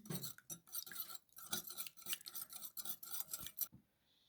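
Quick, rhythmic metallic clicking and scraping of a whisk beating an egg in a bowl, steady and close, stopping just before the end.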